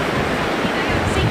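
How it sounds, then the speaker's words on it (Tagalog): Rough sea surges and wind roar steadily during a typhoon on the coast of Kasiguran, Aurora, a continuous loud wash of broadband noise with a voice talking faintly underneath. "yung dagat po parang namumute, no? Dahil tumaas na yung alon."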